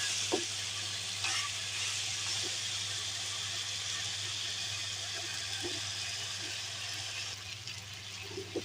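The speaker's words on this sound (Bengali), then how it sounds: "আমি একটু বেশিক্ষণ ধরে কষিয়ে নিচ্ছি" Free-range country chicken is sautéed and stirred in a pan for a long time, giving a soft, continuous frying hiss with occasional light stirring clicks, close but quiet, over a low steady hum, with no voices.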